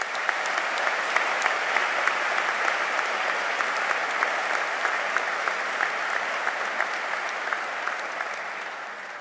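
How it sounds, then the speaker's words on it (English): A large graduation audience at Liverpool University gives a long, even round of applause, dense crowd clapping with a few sharper individual claps standing out, holding steady before easing slightly toward the end. "Let's give all of those supporters a big round of applause."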